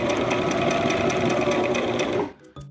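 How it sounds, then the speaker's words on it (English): A sewing machine runs steadily, stitching fabric for a handmade plush toy with a fast, even mechanical rattle up close, then stops abruptly near the end, leaving a few faint clicks. "And back to the sewing machine."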